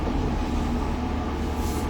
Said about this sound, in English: Backing out the driveway.